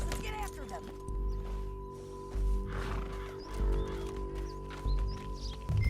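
A horse gallops in Red Dead Redemption 2, steady muffled hoofbeats running under game music, wind and occasional snorts, with voices speaking over it.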